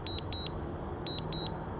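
A drone's low battery warning: rapid electronic beeps come in pairs, repeating in two short bursts over a low steady hum.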